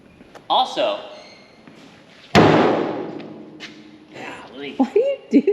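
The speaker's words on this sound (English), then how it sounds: "I always smack that truck" A hand smacks the body of a truck once, a sharp loud slap with a short ringing decay, with people talking before and after it.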